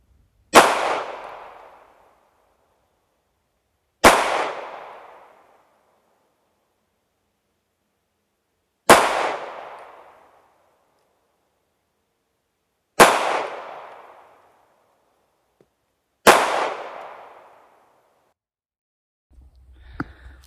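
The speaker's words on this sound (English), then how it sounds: "I have my Smith Wesson 910, so I thought we'd shoot it" Five sharp, loud Smith & Wesson Model 910 pistol shots at an outdoor pistol range, spaced a few seconds apart, each with a short decaying echo, followed by a faint rustle at the end.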